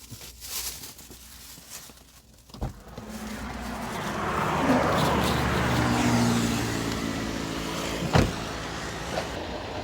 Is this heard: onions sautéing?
no